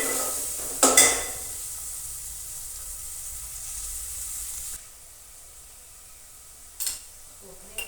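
Onion and chopped dried garlic fry in oil, giving a steady sizzle with a couple of sharp utensil clinks near the start and another around the seventh second. The hiss quiets partway through, and no one speaks.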